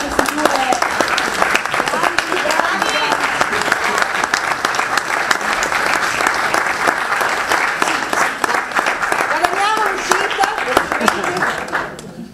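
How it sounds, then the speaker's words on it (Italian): Sustained audience applause at an outdoor clown performance in Pennabilli, dense clapping from a large crowd lasting throughout with scattered voices and cheers mixed in, fading slightly at the end. "un applauso per tutti voi"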